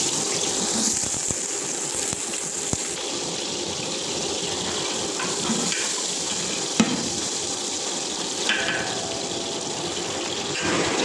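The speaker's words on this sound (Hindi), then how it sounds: "अभी हमारा जो प्याज है जो ब्राउन होना हो चुका है आस्ता आस्ता।" Chopped onions fry in about half a litre of hot oil for Pakistani beef pulao, browning slowly. A loud, steady hiss runs throughout, with a few sharp clicks and pops.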